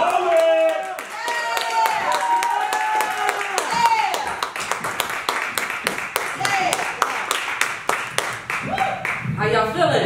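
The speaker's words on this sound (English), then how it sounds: "Clap it up right now." Audience clapping at a poetry writing workshop event, a long run of sharp rhythmic claps and applause building as a performer heads to the stage, with a host talking energetically over it.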